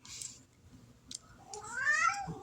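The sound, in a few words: cat meowing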